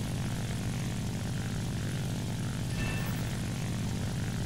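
A propeller warplane engine in War Thunder drones loudly and steadily, a dense continuous roar with no voices over it.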